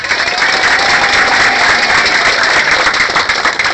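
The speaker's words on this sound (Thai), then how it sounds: "มาเสียงปรบมือกับท่านด้วยค่ะ" Loud, dense applause from a large audience at a company anniversary celebration, sustained clapping with a steady roar and no pause.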